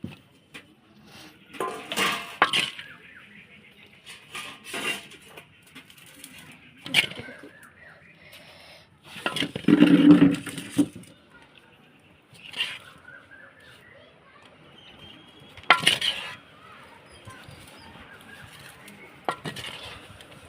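Dishes clink lightly as Maggi noodles are portioned out for everyone, giving scattered short taps and clatters spread through the stretch, with a faint voice now and then.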